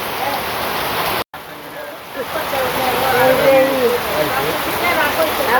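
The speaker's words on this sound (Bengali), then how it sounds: "খুব বৃষ্টি নামছে" Heavy rain falls in a steady, loud wash of hiss and splatter, close by, with a brief cut early on and a voice speaking over it.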